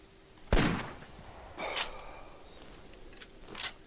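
A rifle shot at a deer in the hunting video game theHunter: one sharp, loud broadband crack near the start, followed by a few fainter, shorter clicks or reports with no talk over them.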